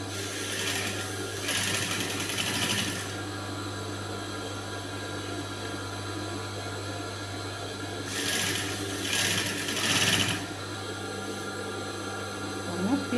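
A sewing machine stitches rolled piping pieces together for a blouse, running in a few steady bursts over a constant hum, with pauses between runs and no talk.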